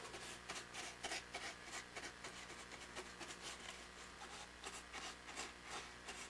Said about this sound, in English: And what do they call it? Stippling?